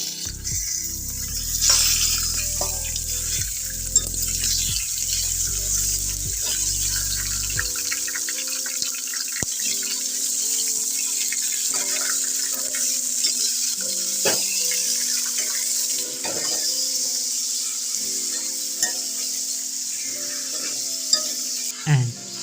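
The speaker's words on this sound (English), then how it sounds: "so pour the chicken on it." Chicken pieces fry and sizzle in a hot pan for a chicken curry, a steady close hiss with occasional stirring clinks and a low rumble for the first few seconds.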